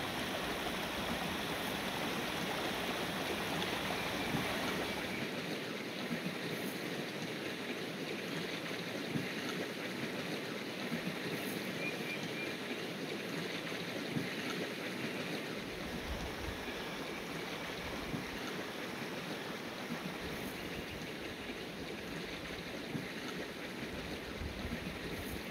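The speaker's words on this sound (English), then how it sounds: "Here is the nearby creek." A creek beside a pine-forest campsite in New Mexico's Jemez area flows with a steady, even broadband rush of water, continuous and fairly close, with no voices over it.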